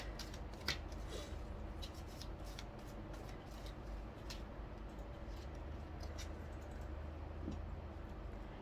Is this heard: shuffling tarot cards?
yes